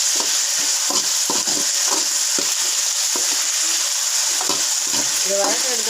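Brinjal sautéing in a pan for kathirikai gotsu, a steady hiss of frying with intermittent spatula scrapes and taps, close and fairly loud with no talking.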